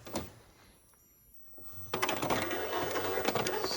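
An Epson ET-4500 inkjet printer runs a nozzle check: a quiet stretch gives way to a steady, close mechanical whir and rattle of the print head, with a few clicks, no talking.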